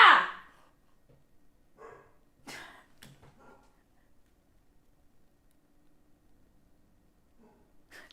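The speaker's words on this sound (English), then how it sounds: "Do you hear her? She goes, woof, woof." A pet dog named Shiva barks once, loud and close, then gives a few fainter yips spaced across the stretch, with quiet room tone between.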